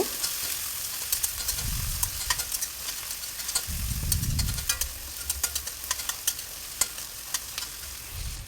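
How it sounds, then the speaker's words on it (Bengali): Onions frying in a pan until brown for a gar fish dish, a steady sizzle with repeated scraping stirs and a couple of low rumbling bursts, close and alone. "পেঁয়াজগুলো ব্রাউন কালার না হওয়া পর্যন্ত ভাজতে থাকবো"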